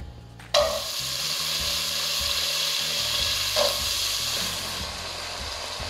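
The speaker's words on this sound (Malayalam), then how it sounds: "ഇത് 2 മിനിറ്റ് നന്നായിട്ട് എണ്ണയിൽ വേവിച്ചെടുക്കാം" Cut potatoes frying in about three tablespoons of hot oil, a loud steady close sizzle after a sharp onset as they drop in, with a brief stir partway through.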